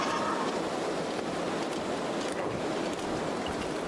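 Rushing waterfall water in the video game The Long Dark, a steady, dense broadband roar that stays loud and constant throughout with no talk.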